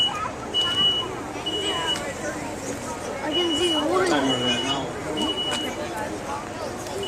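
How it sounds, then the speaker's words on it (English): A smoke detector sounds repeatedly during a room fire test with a couch starting to smoke, giving short, evenly spaced high beeps under someone talking over a busy, noisy room. "your smoke detector's been going off for 1 minute and 45 seconds"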